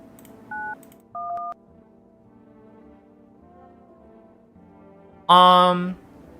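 Telephone keypad tones in a video game: two short separate beeps early on, then after a pause a louder burst with a rich stack of tones near the end, with no talk.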